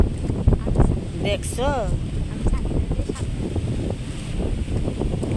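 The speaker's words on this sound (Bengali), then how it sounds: "প্রচণ্ড বাতাস," Strong gusty wind during a days-long rainstorm by the Rudrasagar lake roars and buffets the microphone in uneven surges, with a short spoken word and a brief rising whistle-like tone partway through.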